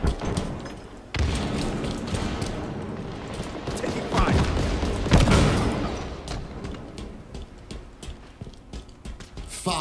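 Frag grenade explosion and gunfire in Halo Infinite: loud, dense bursts of booming blasts and rapid shots, with a heavy surge near the start and another in the middle, then thinning into scattered pops.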